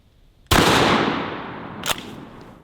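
A 12-gauge shotgun fires a steelhead slug into a bulletproof vest on a human torso target: one loud, sharp blast with a long decaying tail, then a brief fainter crack moments later, no talk.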